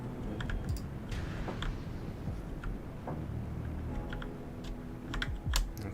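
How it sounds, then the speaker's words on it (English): Someone types steadily on a very clicky computer keyboard close to the microphone, producing rapid, irregular sharp key clacks over a low background hum, with no talking. "very clicky keyboard, as I'm sure you're well aware"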